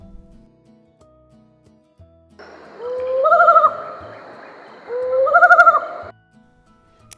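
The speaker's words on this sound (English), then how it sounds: "owl," An owl gives two drawn-out hooting calls a couple of seconds apart, each rising and wavering, clear and fairly close over a quiet background.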